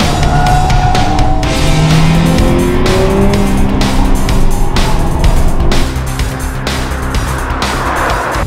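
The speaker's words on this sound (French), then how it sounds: "La réponse de l'accélérateur se fait plus vive, l'échappement se libère et l'amortissement s'affermit." Audi S1 engine and exhaust accelerating hard in dynamic mode, loud and close, with rising revs, repeated gear-change breaks and a steady throaty roar throughout.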